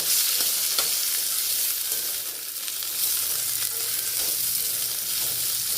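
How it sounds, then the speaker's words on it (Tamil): Sliced bitter gourd sautés in a hot pan for a gravy, a steady loud sizzle and crackle of frying oil with faint stirring scrapes throughout and no talk. "ஏன்னா வதக்கி போட்டோம்னா ஃப்ளேவர் கொஞ்சம் நல்லாயிருக்கும்"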